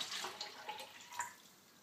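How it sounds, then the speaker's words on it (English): Water poured into a small 10cm camping cook pot, a short steady splashing trickle with light spatter, close and alone. "So we'll pour the water into it."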